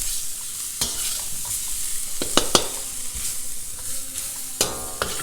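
Garlic and beef sizzle steadily in a hot pan for shaking beef, with a constant frying hiss and several sharp clacks and scrapes as the food is stirred.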